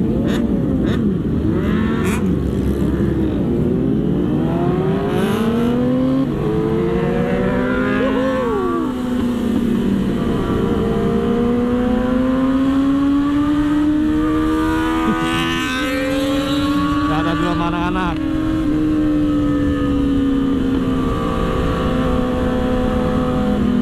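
Several motorcycles in a busy Sunday group ride, some popping wheelies, rev and roar together in a loud, continuous swell of rising and falling engine notes, with riders passing close throughout.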